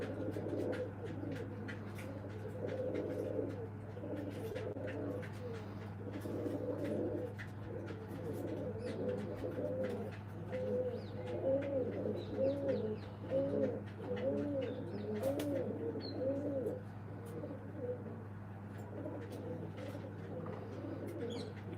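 Pigeons in a loft keep up a continuous chorus of overlapping throaty coos, steady and moderately close, over a constant low hum.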